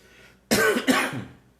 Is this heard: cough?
yes